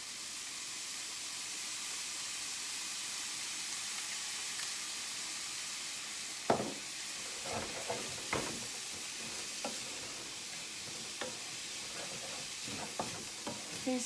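Pasta sauce being stirred and cooked down in a pan, a steady sizzling hiss with soft scraping stirs and occasional clacks of the spoon against the pan, mostly from the middle onward, fairly quiet and close.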